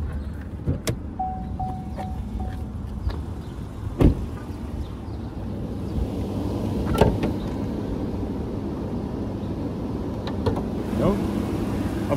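A 2016 Chevrolet Tahoe Police PPV Interceptor with the 5.3 engine and 120k miles idles steadily under an open hood on a hot day, a low, even hum with occasional sharp clicks and knocks nearby.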